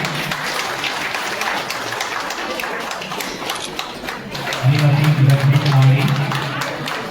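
Audience applause at a public event with a state minister, a dense steady clatter of clapping from a crowd, with a voice rising briefly over it toward the end.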